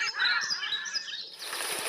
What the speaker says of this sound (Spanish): se detiene y escucha a los pájaros, que nunca la dejan sola.